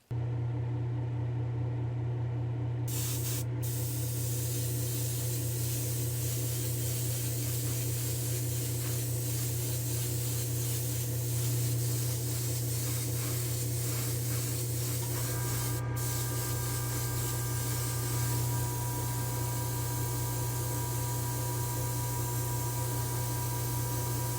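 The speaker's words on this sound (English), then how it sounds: "I'm just going to hit this windshield quick on both sides with some clear coat." A spray gun applies urethane clear coat to a car windshield with a continuous loud hiss under a steady compressor-like hum, lasting throughout with a brief pause early on.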